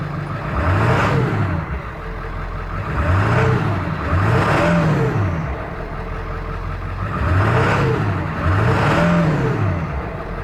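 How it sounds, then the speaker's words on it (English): A 2001 Ford F250 Super Duty Powerstroke diesel revs repeatedly in loud rising and falling surges, its deep throaty exhaust dominating while a faint turbo whistle sits underneath, with no talking. "Exhaust note's so throaty you can barely hear the turbo whistle."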